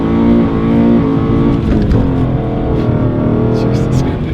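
An E39 BMW M5 engine hums steadily from inside the cabin while driving, a continuous low rumble with a slight rise in revs, loud and close throughout.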